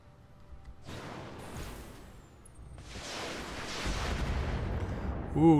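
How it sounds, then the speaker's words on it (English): Weapons fire in the Roguetech mech video game comes as broad, rumbling bursts of booming impacts and blasts, swelling in loudness with overlapping explosions and sustained noisy volleys. Faint speech surfaces briefly at the end. "Ooh, nice shooting."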